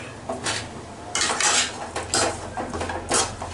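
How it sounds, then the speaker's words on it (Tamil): Kothu parotta is stirred and mixed in a metal pan, with repeated scraping and clattering of a utensil against the pan in irregular strokes, close and fairly loud. "எல்லாத்தையும் நல்லா ஒன்றா கிண்டி விடுங்க"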